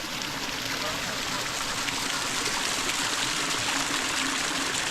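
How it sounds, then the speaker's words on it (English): A small waterfall spills over tiered stone ledges along a wooded trail, giving a steady, dense rush of flowing water close by that stays even throughout, with no pauses or voices. "There's different levels of stone, and then that leads up to that little waterfall."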